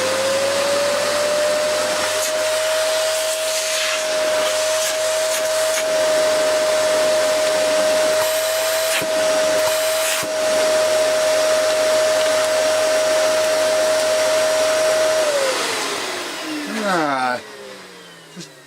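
Hoover Dust Manager cyclonic cylinder vacuum cleaner at full power, a loud steady motor whine held for about fifteen seconds before it winds down and fades as the machine is switched off.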